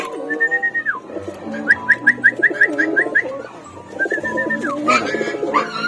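Racing pigeons cooing and calling after a hen is placed among them, a close series of throaty coos and quick repeated whistling notes, steady and fairly loud with no talk.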